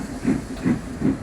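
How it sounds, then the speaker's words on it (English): A toy steam train pulls into a station, with three rhythmic bursts of hissing steam evenly spaced over a low chuffing rumble, fairly close and with no talking. "Just then, Montana pulled in with his train."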